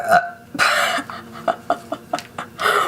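A woman lets out a string of short, close burps in an uneven rhythm, with a few breathy gasps between them.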